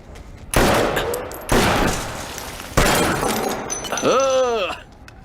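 Gunfire in a sci-fi action movie: three loud, sharp bursts spaced about a second apart, each decaying into a lingering wash, followed by a descending whine of a different effect.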